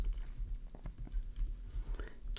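Quiet, fairly close computer keyboard typing, with a series of irregular soft clicks and key taps spread through a couple of seconds, alone with faint background noise.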